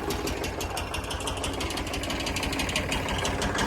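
A tractor engine runs on a farm, giving a steady, dense mechanical rumble with a fast rattling pulse that holds at an even, fairly loud level throughout.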